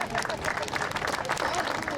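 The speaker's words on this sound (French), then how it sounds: "Vous pouvez vous applaudir." A rally crowd at a protest gathering in Lyon applauds together, dense sustained clapping with mixed crowd noise filling the whole stretch, steady and close.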